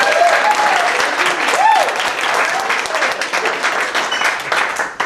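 Loud applause from a reunion audience, steady clapping throughout with a few voices and whoops rising over it.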